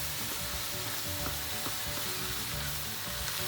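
Tomato paste with salt and pepper sautéing in a pan, a steady close sizzle and crackle with occasional light stirring taps, no voices.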